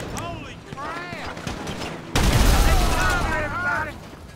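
Bursts of gunfire from shooting groups of enemies in GTA Online, a dense rattling volley erupting loudly halfway through after quieter chatter, with speech heard alongside.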